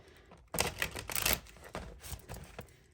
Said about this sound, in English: I like to shuffle it a couple of times